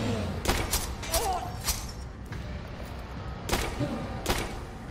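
Gunshots in the horror video game Tormented Souls: several sharp shots spaced out over a few seconds, moderately loud against a low ambient bed, with a player's brief voice in between.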